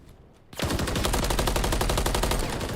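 Sustained rapid automatic gunfire from a Call of Duty match, loud and continuous after a brief quieter lead-in, with fast even bursts and no talk.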